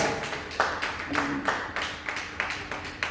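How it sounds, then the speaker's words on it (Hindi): An audience at a Hindi poetry gathering in Jaipur claps in a loose rhythmic pattern, with distinct bursts of hands roughly every half second at moderate, fairly close volume. "तालियां तालियां भाई सबके लिए।"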